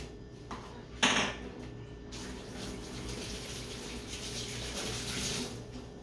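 Dishes washed by hand under a running kitchen tap, with a clatter of dishware near the start and then a steady close stream of water with small splashes.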